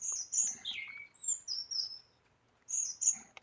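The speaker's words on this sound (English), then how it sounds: "A bird singing." A songbird sings high, clear whistled phrases in short bursts separated by brief pauses, close and alone in a quiet setting, ending with a sharp click.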